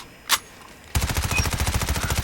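Rapid automatic fire from a QQ9 submachine gun in a video game, a single sharp report followed by a long sustained burst of closely spaced shots, loud and close with no voices.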